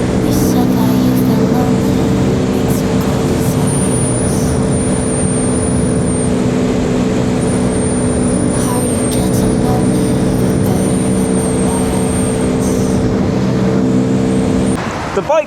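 A motorcycle engine drones steadily and loud while riding on a trip toward Dartmoor, with a thin high whine rising and falling above the constant rumble, heard from the rider's position.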